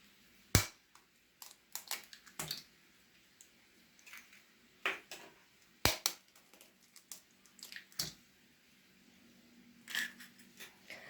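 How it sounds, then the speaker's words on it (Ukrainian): Two eggs cracked into a small bowl for a pear pie batter: a series of sharp, close cracks and taps of shell on the rim, spaced irregularly between quiet pauses. "Два яйця розбиваємо в мисочку."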